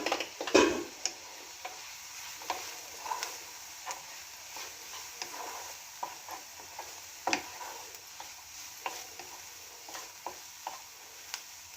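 Fish roe coated in masala cooks in a pan as a spoon stirs it now and then, producing scattered scraping ticks and knocks over a low, faint sizzle, close and without speech.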